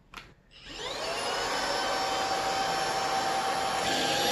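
A Dibea D008Pro handheld wireless vacuum cleaner switches on after a brief click and rises into a loud, steady motor whine that holds for several seconds, close by with no talking.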